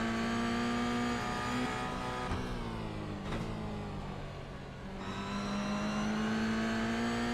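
Toyota GR86 race cars lapping Knockhill in a sim racing game; a steady, loud engine drone with shifting revs and gear changes runs throughout, with no voices.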